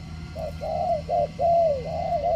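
Spotted dove cooing nearby, a large bird giving a full three-note coo, in a run of about five soft, mellow phrases, each sliding slightly downward, over a low steady background hum.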